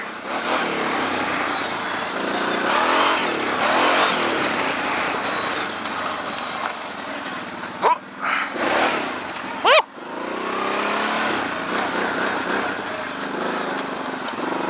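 A new, powerful quad ATV engine revs and strains as the rider climbs a steep hill, with a loud, wavering buzz that rises and falls in pitch and a few sharp spikes near the end.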